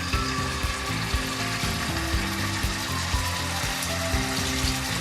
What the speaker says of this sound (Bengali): আমি এখন একে একে এই চিকেনগুলোকে একটু ভেজে নেব।